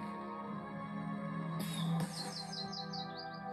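Birds chirp and tweet in the video game South Park: The Stick of Truth, a quick run of bright, descending high calls rising over a steady hum of game ambience, fairly clear and with no talking.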